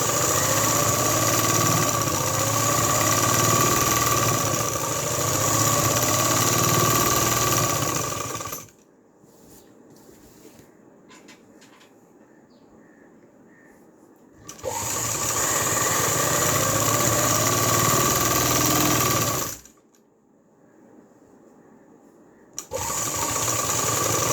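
A sewing machine stitches a salwar belt in two long, loud, steady whirring runs, each followed by a quieter pause with faint handling noises of cloth and machine, and no talking.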